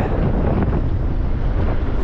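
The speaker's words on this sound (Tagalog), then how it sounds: "Grabe, lakas ng hangin." Strong wind at a house renovation site blasts straight into the microphone, producing a constant heavy low roar with no pauses and no voices.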